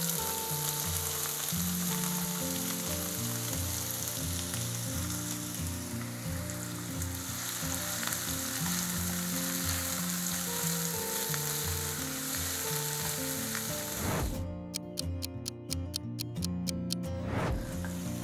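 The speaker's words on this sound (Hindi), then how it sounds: "यहाँ मैंने लिए हैं 4 प्याज, जिन्हें मैंने बारीक बारीक काट लिया था, और ये भी जाएंगे इस तेल के अंदर" Four finely chopped onions with whole cumin seeds frying in hot oil for a restaurant-style chicken tikka masala, giving a steady close dense sizzle throughout, with a few sharp clinks and quick ticking clatters near the end.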